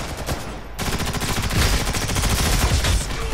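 Rapid automatic gunfire in the online shooter Ghost in the Shell: First Assault, a dense burst of loud cracking shots that starts after a brief lull and rattles on steadily to the end.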